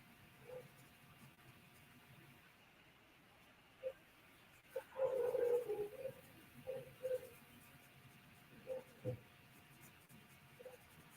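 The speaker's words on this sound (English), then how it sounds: "that barking dog or two that I hear in the background" A dog or two barking in the background, several short faint yips and barks scattered through the clip, far off under quiet room sound.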